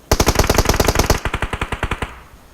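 Automatic gunfire from PUBG Mobile rattles out in one long, loud burst of about twenty rapid shots at a steady rhythm, then breaks off to leave a brief fading tail.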